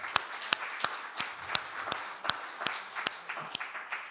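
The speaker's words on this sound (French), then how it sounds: "on peut l'applaudir." An audience at a customer-relations awards ceremony claps steadily, a dense patter of hands with a few sharper individual claps standing out, sustained throughout without any speech.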